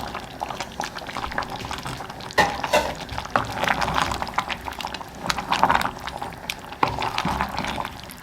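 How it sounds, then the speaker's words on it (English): Beans tumble into a boiling pot, a steady bubbling and pouring rush with scattered clinks and splashes, close and fairly loud throughout. "Yep, there's all my beans going in."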